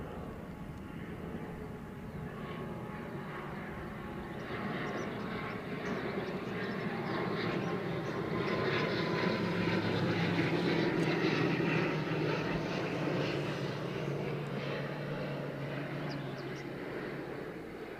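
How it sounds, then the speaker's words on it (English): A Ryanair airliner departs Edinburgh Airport, its engines a steady, broad roar that builds gradually and holds loud for the full stretch without any talk over it. "we've got Ryanair going out short, second short departing"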